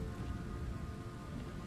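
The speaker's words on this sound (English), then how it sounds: "Yeah, it's raining." Steady rain falls in the video game The Sinking City, a dense, even wash of drops that fills the whole short stretch with no voices over it.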